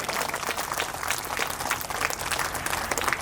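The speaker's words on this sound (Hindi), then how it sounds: "तो एक बार जोरदार तालियां" Loud, continuous applause from a crowd honouring a guest at an Independence Day celebration at a school, steady dense clapping throughout with no pauses.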